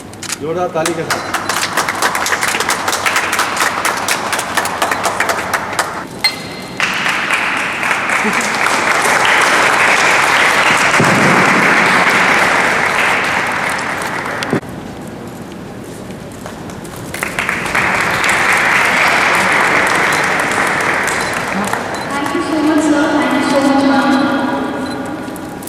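Loud audience applause at a school event in Vidisha, a dense roaring clapping crowd that swells, dips briefly, then surges again, with a voice talking over it toward the end.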